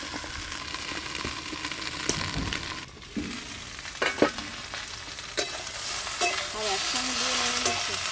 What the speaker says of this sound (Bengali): আলু আর ভেন্ডি বেশ ভালো করে নাড়া হয়ে গেছে